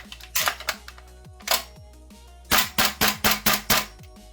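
A GM Scar gel blaster fires with Version 1 Pmag magazines: a few sharp clicky shots early on, then a quick string of five or six close, loud snaps in steady rhythm, with no talking.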